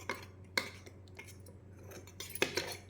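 A spoon stirs a powdered haritaki tooth mixture in a small bowl. A few faint metallic clinks and scrapes come at irregular intervals in an otherwise quiet room.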